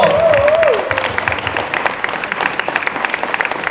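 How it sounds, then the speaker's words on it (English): Audience applause for Samantha Fox at a sci-fi convention in Stockholm, a dense, steady clapping crowd filling the room, with a brief voice or tone at the very start. "big applause for Samantha Fox."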